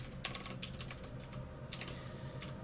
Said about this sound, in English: I can do the typing.